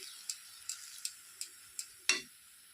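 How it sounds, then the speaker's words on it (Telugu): Banana halwa with milk being stirred in a pan, a quiet background sizzle broken by about six sharp clicks of a spoon against the pan, the last one louder, with no talking. "ఇది దగ్గర పడేంత వరకు మనం వేపుకోవాలి ఇలాగ బాగా కలుపుకోవాలి"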